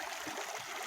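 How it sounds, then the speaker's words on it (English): Amargosa River flowing near the Tonopah Tidewater rail grade, a steady soft broadband rush of water, continuous and even throughout, fairly quiet with no voices. "that peaceful sound you hear is the Amargosa River."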